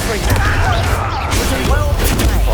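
A Confringo fire spell bursts in Hogwarts Legacy combat, a rumbling blast with crackling, booming impacts layered over battle noise and a voice.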